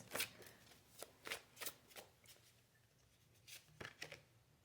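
Tarot cards being shuffled to draw a clarifying card, giving a series of crisp broadband riffles and snaps in irregular bursts, close and fairly quiet, with no voice.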